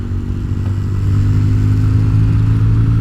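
A budget bobber motorcycle with a modified carburetor slide rolls on the throttle in third gear. The engine drones close and loud with a steady, throaty hum that swells slightly as it pulls, and no voices are heard.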